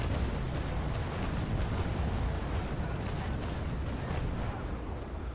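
Ship cannons in Naval Action firing a broadside, a dense rolling rumble of overlapping booms that merges into one sustained roar, loud and continuous.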